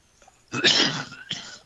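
A single sharp sneeze bursts out close by, followed by a softer second exhalation, with no talking around it.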